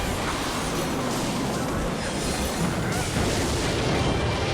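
A rocket strike in a card-battle game sounds out as a sustained, loud, roaring explosive rumble that stays dense and steady throughout, with no pauses.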